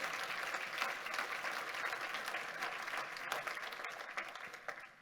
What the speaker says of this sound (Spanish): Dile un fuerte aplauso al Rey de la Gloria conmigo